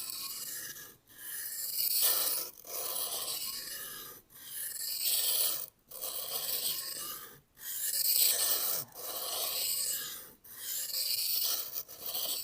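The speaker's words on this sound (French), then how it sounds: "Et donc là, je suis parti pour affûter." A knife blade being sharpened on a Lutopic diamond stone, 600/1200 grit: steady, close rasping strokes, each lasting about a second or more and separated by brief pauses, in an even repeating rhythm.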